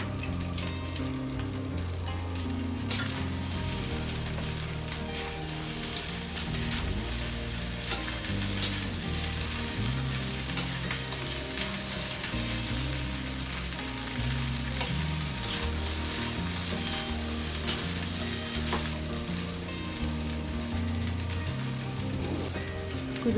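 Rice being stir-fried in a pan with pieces of fried chicken and egg for Christmas chicken fried rice, a steady loud sizzle with rhythmic scraping and tossing of the spatula throughout, with no voices.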